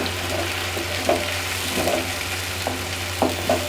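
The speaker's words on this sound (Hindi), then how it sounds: "तो अब मैं इसमें लहसुन अदरक जो चॉप किया हुआ रखा हुआ है ये डाल देती हूँ। इनको अच्छी तरह से मिक्स करेंगे" Chopped garlic and ginger fry with golden onions in a pan, giving a steady sizzle punctuated by several light spatula scrapes and clinks as the mixture is stirred, with nobody talking.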